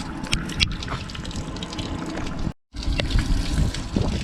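Water splashing and trickling steadily out of a hole drilled in the bottom of a sad, rusty trawler's hull, close and continuous with a brief cut partway through.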